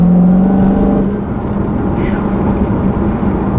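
A 2016 Dodge Challenger Hellcat with a 6-speed manual accelerating hard in third gear, a loud, steady, droning engine roar heard close from inside the car, with a voice talking faintly over it.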